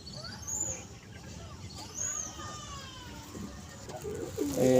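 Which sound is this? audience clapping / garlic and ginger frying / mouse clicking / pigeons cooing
pigeons cooing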